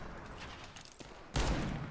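Gunfire in a Counter-Strike GO deathmatch with the R8 revolver: a quiet, murky game bed gives way to a sudden loud burst of shots near the end.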